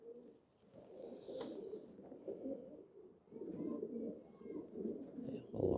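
Pigeons coo softly in low, rolling murmurs, fairly close and quiet, with a few faint higher chirps in the background.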